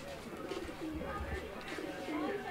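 Racing pigeons of the 2023 ring class, tagged with Bangladesh BRPFC club bands, coo in low repeated murmurs close by, with background voices and handling noise.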